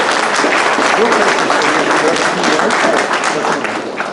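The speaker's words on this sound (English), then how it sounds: "just one more round of applause" A gala audience gives a sustained round of applause, dense and loud throughout, with voices mixed into the crowd noise.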